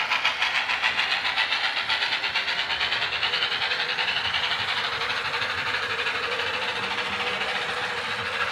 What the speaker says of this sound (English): You can see the chuff rate is matched much better.